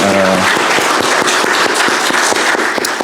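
A church congregation at a Sunday service bursts into loud, energetic applause. Close, crackling claps carry on steadily for several seconds.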